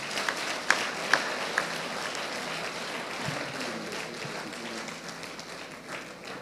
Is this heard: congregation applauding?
yes